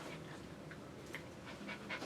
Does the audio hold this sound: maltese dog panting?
yes